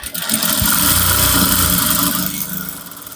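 A sewing machine stitches trouser lining for a palazzo trouser in a fast, steady whirring run lasting a few seconds, close and fairly loud with no talking.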